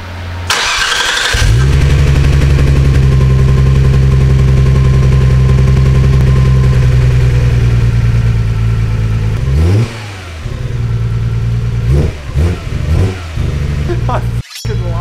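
A Nissan R33 GTR engine running on a Haltech ECU cranks briefly, catches and settles into a loud, rough idle, then gets several sharp revs toward the end, close up with a voice speaking over it.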